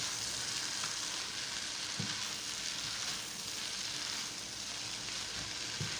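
Ground lamb frying and being stirred in a pan, a steady close sizzle with soft scraping and a couple of faint knocks, no talking.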